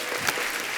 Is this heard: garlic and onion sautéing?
no